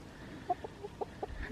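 A rooster and a flock of buff Orpington hens in a backyard chicken setup, a few soft, scattered clucks spaced out over a second and a half, faint and fairly close.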